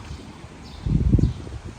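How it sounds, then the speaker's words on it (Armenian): Low, blustery wind rumble against the microphone, swelling into a louder gust midway before easing off again. "Բայց իմ էլ քամի է"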